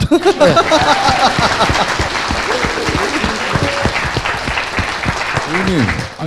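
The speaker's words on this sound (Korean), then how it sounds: "박수" Close, loud applause from a group keeps up steadily, with voices talking over the clapping.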